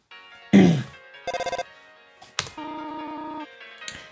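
Phone ringing in the video game Undertale: a short run of bright electronic chiming tones with repeated pulsed rings and sustained melodic notes, clear and alone with no talk.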